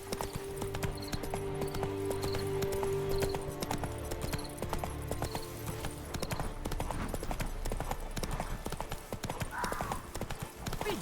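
Galloping horse hooves from The Witcher 3 video game, a steady clip-clop rhythm running throughout alongside game music, with an occasional faint whinny.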